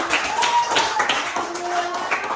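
A school class claps hands at the end of a lesson, a short burst of scattered, uneven clapping from a small group in a room, moderately close, with some faint chatter.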